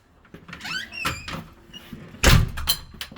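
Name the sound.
door being closed in a video game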